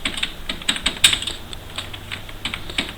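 Typing on a computer keyboard while entering text into a spreadsheet chart, sharp individual keystrokes in an irregular rhythm with brief gaps, close and fairly loud, with no talking.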